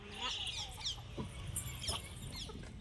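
A hen with chicks clucks repeatedly close by, a busy run of short, throaty calls continuing steadily throughout.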